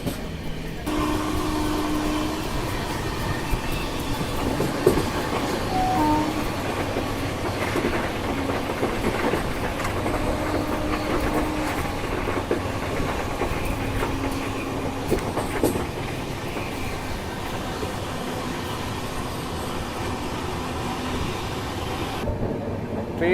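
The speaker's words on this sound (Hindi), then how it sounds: "ट्रेन अपनी पार कर रही है अभी पंडूरना रेलवे स्टेशन" An Indian Railways express train runs along a triple-line section near Pandhurna station, its steady rolling rumble and clickety-clack continuous and fairly loud throughout, with no talking.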